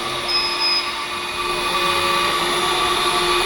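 A window-cleaning robot bought from AliExpress runs its automatic spray, giving a continuous loud whirring hiss with a faint steady whine, with no pauses.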